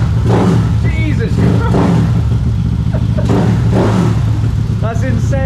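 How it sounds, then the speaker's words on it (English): A scooter bored out from 115cc to about 220cc revs hard and very loud near a Filipino province home, a steady throbbing engine roar filling the whole clip while people talk and exclaim over it. "That is the loudest scooter I've ever heard in my life."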